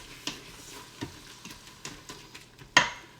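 A spoon stirs and mashes shepherd's pie filling in a pan with a series of soft, scraping taps at an uneven rhythm, ending in one sharper clack, while a faint sizzle hums underneath.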